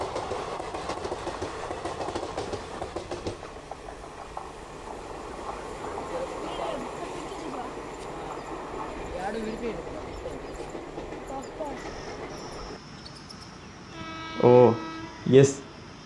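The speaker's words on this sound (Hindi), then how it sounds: "हालांकि ये फ्रीट का लोकोमोटिव है।" A freight locomotive hauling a passenger train passes a station, its rolling rumble and wheel clatter steady and close, then a loud horn blasts twice near the end.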